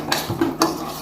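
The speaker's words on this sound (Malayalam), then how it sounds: "ഗ്രാജുവലി ഒന്ന് മിക്സ് ചെയ്ത് കൊടുക്കുക." A spoon scrapes and clinks against a pan while rava kesari is stirred with ghee for a pineapple version, two or three short metallic strokes in quick succession, close and clear, with no voices.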